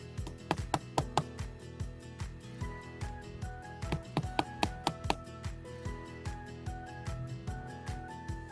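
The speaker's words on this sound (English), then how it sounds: "I'm simply going to chisel out this hole to accept a wood plug" A chisel struck repeatedly while cutting a hole into a wooden post gives sharp, close knocks in an irregular rhythm, some in quick bursts, with ringing tonal overtones between strikes and no talking.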